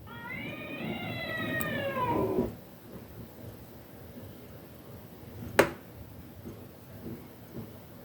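A cat meowing, played by the Alexa Miaou skill: a single drawn-out, slightly wavering meow lasting about two seconds, clear and fairly close, followed by quiet with a sharp click.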